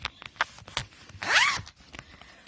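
A zipper on a sewn fabric baby changing bag is drawn in one quick, close pull, preceded by a few soft handling taps.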